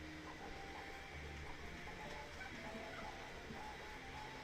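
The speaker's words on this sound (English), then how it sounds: "But does that reduce the printer sound without reducing me too much?" A 3D printer runs steadily while printing a Lego-style cottage model, giving a continuous mechanical whir and hum with faint tonal motor whines, fairly loud and unbroken throughout with no talking.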